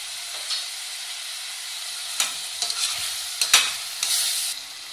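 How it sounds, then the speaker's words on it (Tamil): Onions and green chilies fry softly in a pan for a quail egg gravy, giving a faint, steady sizzle punctuated by a handful of scraping stirs, the last ones louder and longer, with no talking. "நல்லா கிண்டி விட்டுக்கிடுவோம். கூடவே பச்சை மிளகாயும் ஆட் பண்ணிக்கிடுவோம்."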